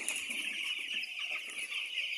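Broiler chickens cluck in a steady, dense chorus from a flock, with continuous chatter at moderate volume and no voices over it.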